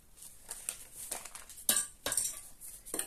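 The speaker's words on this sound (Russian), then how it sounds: "И вот так я сейчас размешиваю, чтобы чеснок распределился." Metal spoon stirring garlic and black pepper into broth for homemade aspic, giving a few quiet scraping clinks against the pot at an irregular pace, close by with no talk.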